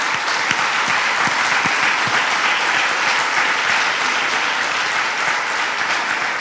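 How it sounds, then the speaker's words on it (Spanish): A church congregation breaks into dense, sustained applause that stays loud and even from start to finish, with a few sharp individual claps standing out near the beginning. "Un aplauso para nuestro Dios."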